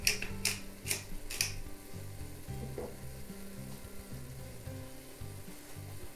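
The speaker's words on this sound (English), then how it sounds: "Now we'll let it cook." Eggs with salt and pepper fry country-scramble style in a Ninja Foodi, a steady close sizzle with a few sharp clicks and clatters early on, no talk.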